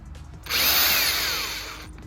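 A handheld power drill bores a hole while building no-dig garden boxes, a loud, steady whirring burst of about a second and a half that starts abruptly and fades off, close to the microphone, with no talking.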